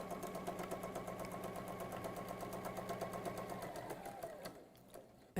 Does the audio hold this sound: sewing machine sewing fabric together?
yes